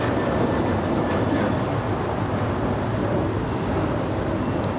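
An American Airlines plane taxis on taxiway Juliet at LAX airport, a steady broadband engine rumble that continues throughout at moderate distance.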